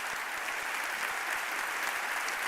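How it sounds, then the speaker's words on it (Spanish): A steady wash of audience applause greets a regional vice president taking the stage at a Tecnológico de Monterrey event, dense and even throughout with no voices on top. "Recibámoslo con un aplauso."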